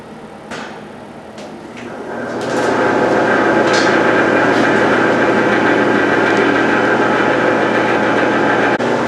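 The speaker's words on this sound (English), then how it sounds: "So I have the fan running right now. You can hear it. It's a little noisy" A fan with loose, untightened parts spins up after about two seconds, then runs steadily with a loud, broad roaring whir. A few faint clicks come just before it starts.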